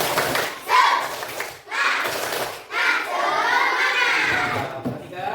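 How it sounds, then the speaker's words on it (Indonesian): Primary school pupils in a fifth-grade class perform a rhythmic spirit clap, loud bursts of clapping in patterned phrases mixed with children's chanting voices, separated by brief pauses. "Cek tepuk semangat"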